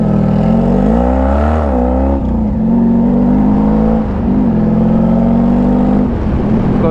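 A 1990 Honda Pan European ST1100 motorcycle, a 1100 cc machine, revs loudly close by, its engine note rising and falling in steady surges without a break.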